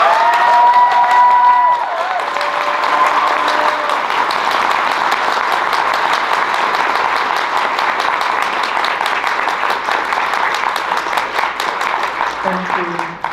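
A convention audience at a closing ceremony applauds and cheers for staff past and current, a dense, sustained wash of clapping that fills the room, with a voice briefly over it at the start and end.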